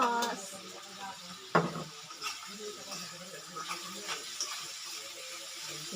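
Food is stirred in a cooking pan with dried fish and seasonings, scraping clinks and soft sizzling wet sounds close by at a moderate level, with people talking over it.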